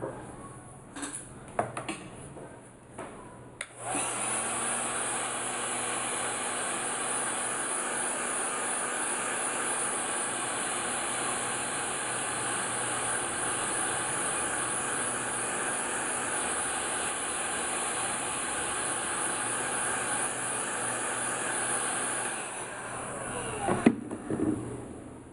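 A hair dryer blowing to dry paint on an MDF door sign, switching on after a few seconds of handling noises and running as a loud, steady close whoosh for about twenty seconds before cutting off.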